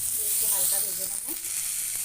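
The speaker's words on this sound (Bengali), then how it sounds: "আমটা আমি হালকা সুন্দর করে ভেজে নিয়েছি" Mango pieces with a pinch of turmeric fry in a pan for mango chutney, giving a steady, close, bright sizzle throughout. A faint voice can be heard underneath.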